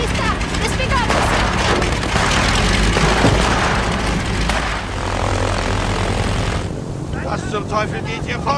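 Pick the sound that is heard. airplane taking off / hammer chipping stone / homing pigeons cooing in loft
airplane taking off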